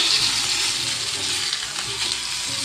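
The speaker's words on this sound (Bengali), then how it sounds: "হালকা তেল চিটকাচ্ছে" Hot oil spatters and crackles as food fries in a pan, a dense, steady sizzle with no talking.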